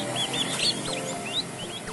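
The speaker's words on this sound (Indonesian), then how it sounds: "Ini dia anak ayam kalkun putih." White turkey chicks peep in soft, high, rising chirps, several overlapping calls in a quiet space, faint and brief.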